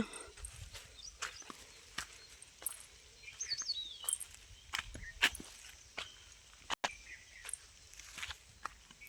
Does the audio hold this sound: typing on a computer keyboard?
no